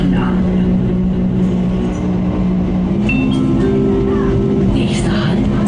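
A local Swiss mountain train runs toward Kleine Scheidegg, giving a loud, steady low rumble and rolling hum throughout, with faint muffled voices in the carriage.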